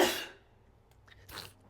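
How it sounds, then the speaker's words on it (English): A single sharp sneeze bursts out close to a microphone, then fades into quiet with a soft sniff or breath afterward. "Excuse me, I just sneezed."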